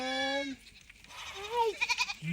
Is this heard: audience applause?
no